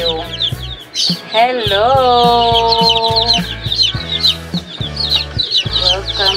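Black Australorp and Rhode Island Red crossbreed chicks cluck and peep steadily and close up, shrill calls overlapping throughout, with a brief human greeting near the start.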